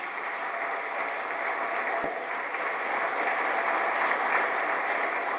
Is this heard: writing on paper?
no